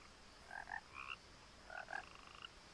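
Frogs croak by a pond in What Remains of Edith Finch, a few short paired calls in two clusters over a quiet, faint background, no talking.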